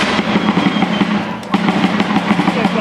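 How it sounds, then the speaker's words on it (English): Musket gunfire at an outdoor Revolutionary War reenactment, a loud dense crackle of overlapping shots with a brief dip in the middle, heard amid general field noise. "so now they're going to start shooting"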